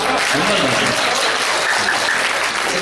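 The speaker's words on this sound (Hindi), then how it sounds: "जोरदार तालियां बजा दीजिए" Loud, dense applause from a mushaira and kavi sammelan audience in Tilhar fills the whole stretch without a break, with no clear voice on top.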